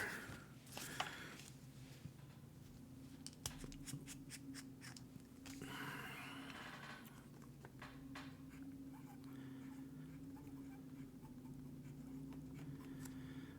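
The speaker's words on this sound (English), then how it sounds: "I wonder if it's just the black nib that's making this sound." A black-coated pen nib scratches across smooth Tsubame paper, producing soft, dry scritching strokes in irregular bursts close up, with a steady low hum underneath and no speech.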